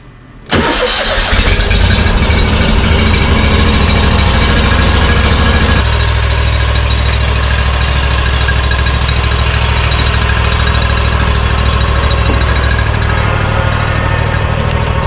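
Commercial lawn mower engine cold-starting, a brief crank catching into a loud, steady close-up idle roar that settles slightly lower after several seconds and runs on alone.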